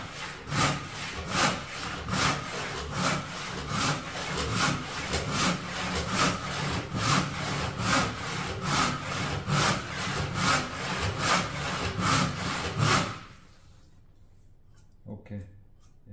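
Hand saw cutting a square timber blank with long, even back-and-forth strokes, a rhythmic rasping about twice a second, close and loud, then stopping abruptly as a few light knocks follow; someone talks quietly over it.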